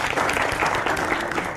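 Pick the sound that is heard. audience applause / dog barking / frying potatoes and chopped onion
audience applause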